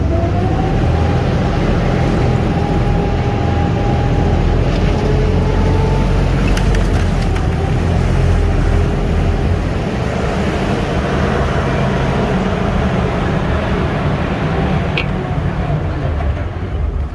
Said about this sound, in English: You guys will see the 6-wheel drive and low gear in action as we come up this ramp here.